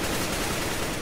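Rapid burst of automatic gunfire in a tactical first-person shooter match, a dense, continuous rattle heard close and fairly loud through its whole brief length.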